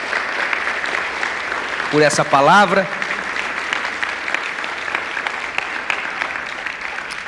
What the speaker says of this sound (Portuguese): pode dar uma salva de palmas para Jesus